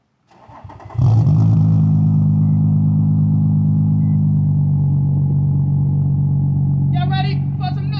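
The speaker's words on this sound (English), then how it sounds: "I know you want to hear the VQ noise." Nissan 350Z with its VQ engine starts and idles loudly up close, a deep steady exhaust rumble holding for several seconds, with a brief voice near the end.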